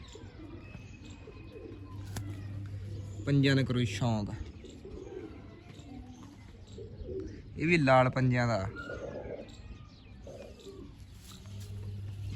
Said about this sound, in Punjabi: ਇਹ ਵੱਡਾ ਕਬੂਤਰ ਆ